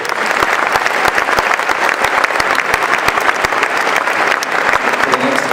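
A crowd at a formal evening ceremony claps steadily and densely throughout, a sustained wash of many hands with no pause.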